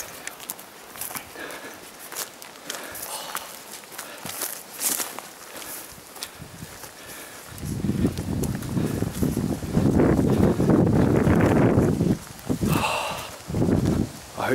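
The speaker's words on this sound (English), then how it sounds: "I hope this wind hops off, man." Outdoor wind buffets the microphone in gusts, starting as soft rustling and swelling into heavy, rumbling blasts in the second half, with brief lulls between surges.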